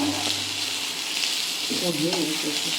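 Vegetables, pumpkin among them, fry in a pan with a constant bright sizzle, while a voice talks quietly underneath partway through.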